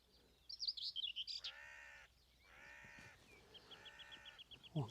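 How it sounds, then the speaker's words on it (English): A carrion crow on open downland on the Isle of Wight gives a few harsh, repeated calls, with smaller birds chirping and twittering around it, all faint and fairly distant in a quiet outdoor setting. "One carrion crow, there he goes."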